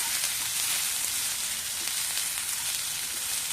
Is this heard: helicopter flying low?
no